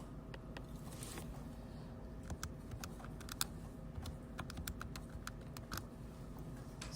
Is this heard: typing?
yes